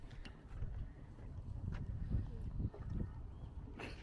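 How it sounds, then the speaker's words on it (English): Gusty wind on a big lake during a fishing trip buffets the microphone as a low continuous rumble with rising and falling surges, fairly faint, with scattered voices and some light knocks in the background. "It's windy."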